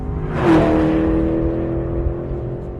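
A Porsche 997 GT3 RS or Chevrolet Camaro Z28 sports car accelerates in third gear with traction control off, its engine note rising and then holding a loud, steady drone inside the cabin.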